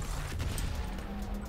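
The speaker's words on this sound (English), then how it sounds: "the cannons didn't really do that much damage" Spaceship cannons firing in the Star Control Origins space action game, a faint, dense rattle of rapid shots over a low rumbling background, short and continuous.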